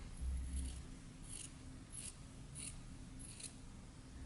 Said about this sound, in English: you just do like this, right? And you just cut away, cut away, cut away, cut away.